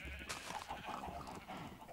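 Sheep bleating in Minecraft, a couple of short faint nasal bleats heard close together with no talk over them.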